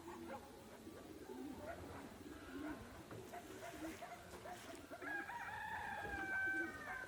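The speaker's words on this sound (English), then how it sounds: "That was a rooster" A distant rooster crows over a steady outdoor country background, its call rising faintly above the ambient hiss toward the end.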